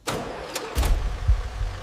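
A restored fire truck engine, once abandoned in the jungle, cranks and catches, then settles into a low, rumbling run, close and loud, with no talking.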